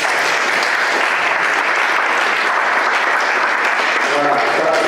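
A conference audience applauds steadily and densely throughout, a continuous wash of clapping at a civic engagement forum panel in Togo, with some faint voices mixed in toward the end.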